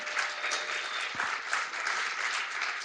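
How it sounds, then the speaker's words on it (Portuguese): Steady applause from a tech conference audience, a dense wash of many hands clapping throughout, no voices over it. "Por favor, uma salva de palmas"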